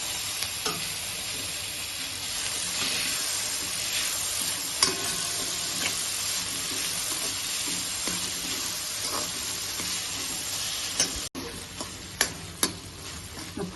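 Chopped tomatoes and onions sautéing in a pan for tomato onion chutney: a continuous sizzle with soft stirring scrapes and occasional sharp ticks of a spoon against the pan, close and fairly loud.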